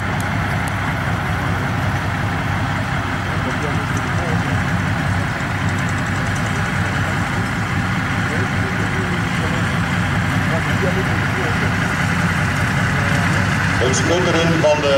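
A World War II tank powered by twin Cadillac V8 engines runs at an outdoor tank event in Oeselgem, Belgium, giving a continuous low, throbbing idle over the whole stretch. Someone talks over it throughout.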